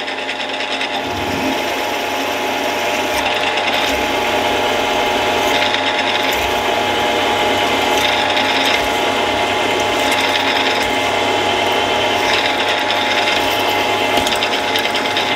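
Steady mechanical grinding and whirring of a drill boring 8.5 mm holes in metal for an M10-threaded tap handle, loud and continuous with no talk, the cutting tone shifting slightly as the bit works through.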